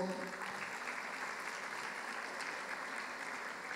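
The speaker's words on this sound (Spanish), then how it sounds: "para quien pido un fuerte aplauso" A crowd at a student congress applauds a young student leader as she is introduced, with dense, steady clapping filling the whole stretch at a moderate, roomy distance.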